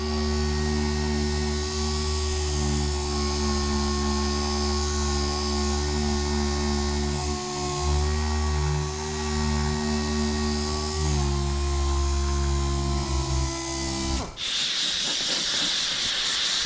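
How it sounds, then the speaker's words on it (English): A finish sander with 220 grit works over chipped spots on a car bumper, a loud, steady motor whine with a constant tonal drone that runs for about fourteen seconds before cutting off abruptly into scuffing noise. "I'm going to go over this area and all these chips with 220 on a finish sander"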